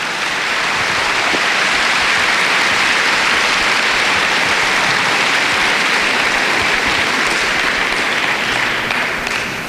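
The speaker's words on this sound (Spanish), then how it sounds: "¿qué tal que damos un aplauso al Señor?" A church congregation claps loudly and continuously in a dense, sustained wave of applause with no pauses, filling the room for nearly ten seconds before easing slightly at the end.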